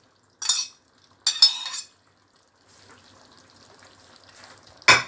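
Tomatoes, onions, chopped scallion and sweet peppers are stirred into frying pork for Jamaican brown stew. Two loud scraping stir bursts come close together, then a soft, steady sizzle runs underneath, ending in another sharp clatter of the spoon.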